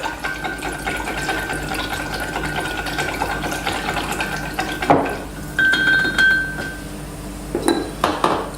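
Dukkah and cloves are tossed together in a bowl, with a steady run of clinking, scraping spoon-on-bowl sounds, then a sharp clatter and a few louder, irregular knocks near the end.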